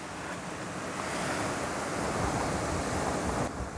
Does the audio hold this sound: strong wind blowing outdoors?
yes